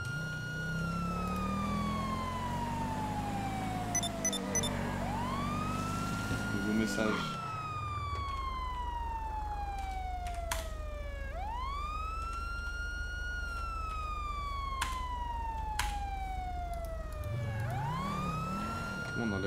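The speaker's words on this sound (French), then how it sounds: "Comment on enlève la sirène?" A police siren in a GTA 5 roleplay game wails in long rising and falling sweeps, loud and steady the whole time, while someone speaks briefly over it.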